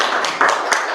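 Open-mic audience applause in a small venue, a steady wash of many hands clapping through the whole short stretch, swelling slightly midway, with a faint voice or two mixed in.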